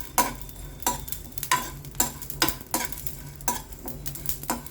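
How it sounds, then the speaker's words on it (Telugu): Masala ingredients with coconut pieces for ivy gourd curry frying over a low flame, a soft steady sizzle broken by regular stirring scrapes about twice a second, close and without talk. "ఇప్పుడు ఇవన్నీ వేయించుకుంటున్నా సిమ్లోనే వేయించుకుంటే మంచిగా ఉంటుంది"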